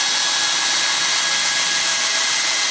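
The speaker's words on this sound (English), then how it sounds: "you're not going to go super high speed with the drill" A drill stirs epoxy resin for a river table at low speed, a steady, loud whirring drone that holds constant without pause throughout.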